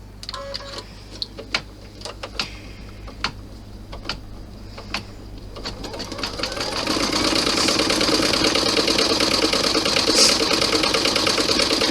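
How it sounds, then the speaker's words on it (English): A sewing machine stitches a vinyl messenger bag. Sparse clicks and knocks come first, then the motor spins up into a loud, steady, rapid mechanical chatter that runs to the end. "right now it's going to stitch up this side and down that side"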